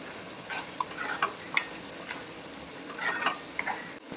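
Finely chopped tomato drops into hot oil spiced with cumin powder and garam masala for spicy mutton chaap, giving a soft sizzle with scattered stirring clicks and scrapes, fairly faint and close, no voices.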